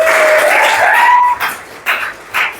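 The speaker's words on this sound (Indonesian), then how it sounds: "Oke, kita kasih tepuk tangan." Brief applause from a classroom during a coding lesson, a scattered burst of clapping that fades into a few short later bursts, fairly close and moderately loud.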